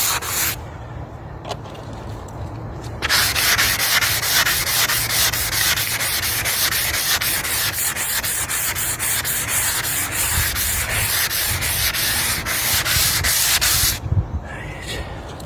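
A headstone is sanded and polished with 3000 grit, a power sander kicking in after a short pause and running with a loud, steady, close grinding whir for about eleven seconds before cutting off.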